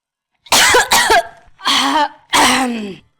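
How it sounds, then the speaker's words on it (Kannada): A person with a cough and cold coughs in four harsh, close bursts with short pauses between, the last one drawn out, and no speech. "ಯಾಕೋ ಏನೋ ಕೆಮ್ಮು ನೆಗಡಿ ಎರಡು ಒಟ್ಟೊಟ್ಟಿಗೆ ಬಂದ್ಬಿಟ್ಟಿದೆ"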